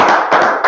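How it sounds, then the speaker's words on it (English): A few quick hand claps, about three sharp close slaps in under a second, loud and with no talk. "Let's clap it up there"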